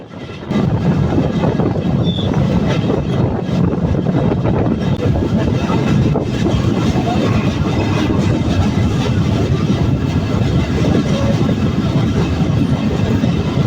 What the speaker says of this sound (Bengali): এলিভেটেড রেলপথের যে কি পরিমাণ শব্দ